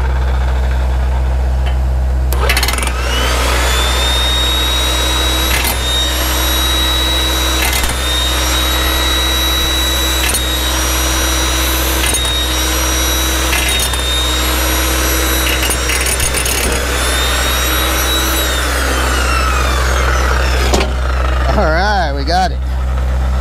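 A hydraulic ripper machine works steadily and loudly to free a boulder stuck in its chisel, its engine droning with a sustained whine and repeated hydraulic strain cycles, close and continuous before easing off near the end.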